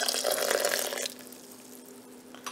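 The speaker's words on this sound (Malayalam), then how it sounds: "നമുക്ക് വെള്ളം ഒഴിച്ച് കൊടുക്കാം." Water poured into a mixer jar holding coconut while making Kerala-style black halwa, a close splashing pour for about a second that then drops to a quiet trickle.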